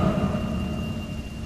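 Steady rain with a low thunder rumble from the horror video game The Motel, a dense, continuous wash of noise holding at an even level for the whole moment, with faint tonal hum underneath and no voices.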